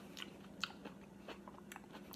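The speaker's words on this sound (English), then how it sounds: "pit chewing action in order to get it off." Someone chewing around a plum pit to strip off the fruit, faint close-up wet biting and crunchy chewing sounds in an irregular rhythm with no talk.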